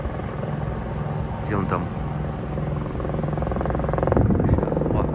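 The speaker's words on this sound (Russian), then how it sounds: "О, вертолет стартует снова, ну-ка." A helicopter takes off nearby with a steady rotor rumble that grows louder, while someone speaks briefly over it.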